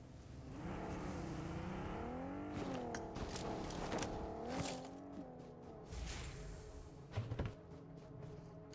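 A video game car engine heard at low level, with a steady hum that rises and falls in pitch as it revs and a few clunks and creaks near the end.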